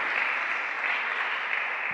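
A church congregation gives a short burst of steady, dense applause, even and sustained throughout with no pauses.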